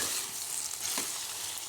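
Bottle gourd curry being stirred in a pot, a soft scraping stir over a faint bubbling sizzle, close and quiet.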